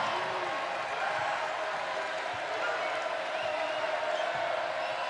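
A basketball crowd in the Farrell Center roars steadily after a Baylor three-pointer against Kansas, a broad sustained cheer with a commentator talking over it.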